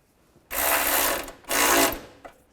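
Two quick bursts of a ratchet wrench clicking as it snugs down a bolt on the tensioner of a 2005-2010 Chevrolet Cobalt, close and crisp with a short pause between strokes and a faint tap after.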